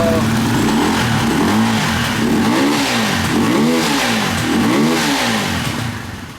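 A dirt bike engine runs up close, its pitch swelling and falling in repeated rev cycles, a loud buzzing drone that fades slightly at the end.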